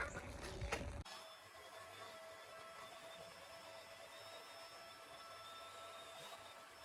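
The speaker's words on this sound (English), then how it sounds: "Let's get the vacuum out and see if anything would come out." A vacuum cleaner cleaning a 2014 Ford Transit Connect drones steadily at a moderate distance, a brief louder burst at the start, then a constant whine with no talking.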